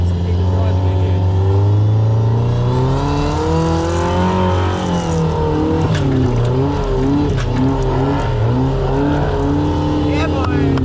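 A 4x4 trials vehicle works its way up the Mt Egmont course, engine droning loudly and steadily with shifting revs throughout, close to the listener.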